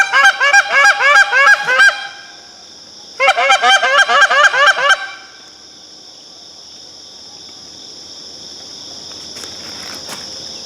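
A flock of geese honks loudly and close during an early-season goose hunt, in two rapid bursts of overlapping calls separated by a pause, followed by a steady insect-like buzz.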